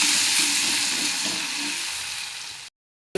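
Crushed ginger, garlic and green chillies sauté in not-yet-hot oil for a quick fish curry, giving a steady, close hiss of frying that runs about two and a half seconds and then cuts to silence.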